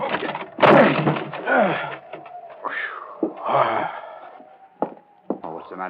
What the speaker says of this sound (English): Help me bust this door.